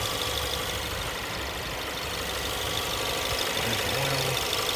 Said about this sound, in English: Again, this is the standard engine for the Ford Edge.